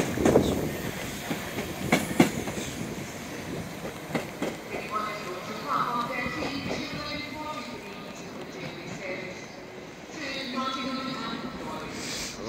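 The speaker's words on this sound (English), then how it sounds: "Arriving in now is a East Midlands Railway 158 to Norwich" An East Midlands Railway class 158 diesel unit bound for Norwich rolls into a station platform, wheels clicking over rail joints and brakes squealing faintly as it slows, with a station announcement and someone talking over it.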